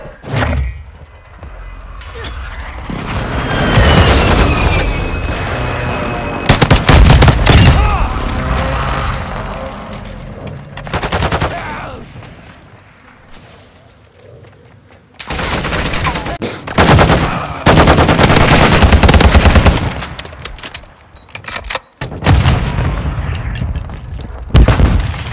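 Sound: precision airstrike explosions and gunfire in Call of Duty: Modern Warfare II video game

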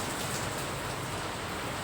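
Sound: heavy rain falling

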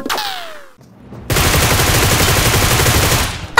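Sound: gunfire in a battle royale video game

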